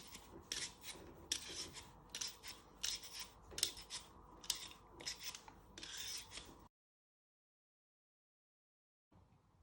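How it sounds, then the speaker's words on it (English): A peeler scrapes a carrot in quick, rhythmic rasping strokes, about a dozen close, crisp passes, then stops into silence before a faint sound returns at the very end. "After when you have peeled your carrot"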